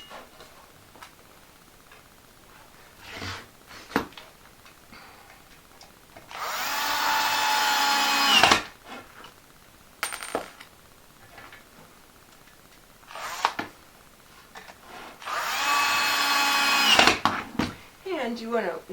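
A power drill drives screws into the wooden ends of a mohair cinch frame, whirring in two main bursts of a couple of seconds each with quieter clicks and handling sounds between, close by.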